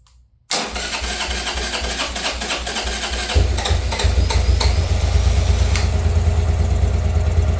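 A Buell Blast motorcycle engine cranks over and fires up after a brief quiet moment, then settles into a loud, close, steady idle that grows slightly stronger as it keeps running.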